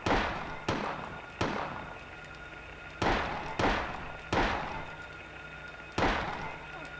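Gunshots in the Silent Hill video game, six dull booming reports spaced about a second apart, each trailing off into a short reverberant tail, loud and close.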